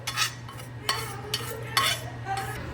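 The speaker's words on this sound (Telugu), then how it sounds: "ఇప్పుడు ఇంకో కప్పు మనము సూజీ తీసుకుందాం, అదే ఉప్మా రవ్వని తీసుకొని దీన్ని కూడా నెయ్యిలో దోరగా వేయించుకోవాలి" Semolina (upma rava) roasting in ghee in a pan is stirred with a spoon, giving several scraping strokes in an irregular rhythm, close and moderately loud, with no talk.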